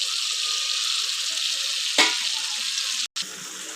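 Spiced masala frying with melted tomato in a pan, a steady close sizzle with a single sharp stir or scrape midway and a brief dropout near the end.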